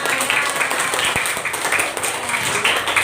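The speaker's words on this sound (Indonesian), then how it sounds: "Tepuk tangan untuk kita semua" Schoolchildren and their teacher clap together in a classroom, a lively, uneven burst of many small hands that continues steadily for a few seconds.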